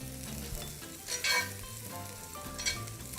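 Butter sizzles and fries with mushrooms in a pan for a steak dish, a steady crackling hiss with a few louder bursts of stirring, no voices.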